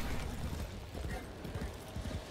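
Hooves of a horse galloping in the video game Warframe, quick clip-clop beats in a rapid rhythm over a dense layer of game sound effects, fairly quiet overall.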